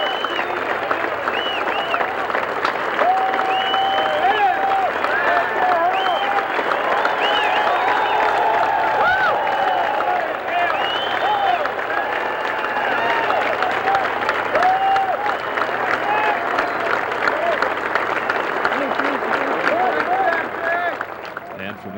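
Sustained applause from a large outdoor golf crowd at the 1990 U.S. Open rolls on steadily, with scattered voices and whistles mixed in throughout.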